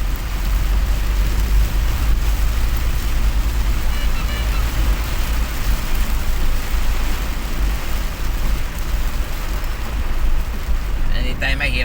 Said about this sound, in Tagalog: malakas ng ulan dito sa Quezon City